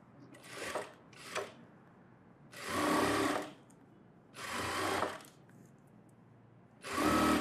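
A sewing machine stitches a sleeve onto an umbrella frock in a tailoring lesson, running in four or five bursts of steady close whirring, two short then longer runs separated by pauses, with no speech.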